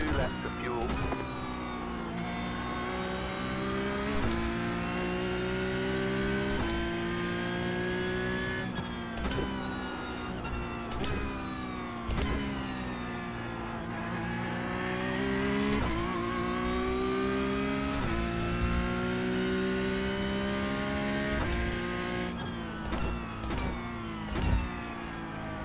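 A Porsche RSR race car engine at Imola drones loudly and continuously, its pitch climbing and dropping through gear changes and revs, with people talking over it.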